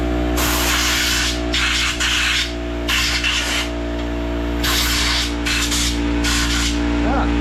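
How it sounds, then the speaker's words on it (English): Compressed air from an air compressor blasting through a dirty race vehicle's clutch assembly, loud hissing bursts in several repeated pulses over a constant mechanical hum. "I'm gonna get the air compressor going"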